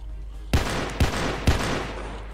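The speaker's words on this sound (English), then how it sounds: "these gunshots are loud as a motherfucker" Three loud, evenly spaced gunshots boom in quick succession, each with a booming tail, from a horror shooter video game.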